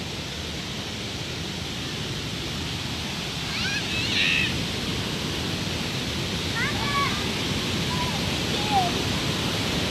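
Victoria Falls on the Zambezi River roars as a steady broadband rush, with a few bird chirps above the constant wash of falling water.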